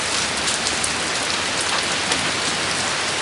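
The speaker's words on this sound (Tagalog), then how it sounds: "Maulan talaga." Heavy rain falls steadily and loudly on surfaces in Peter Cabugao, Ilocos Sur, a dense, even hiss of drops with no voices and no pauses.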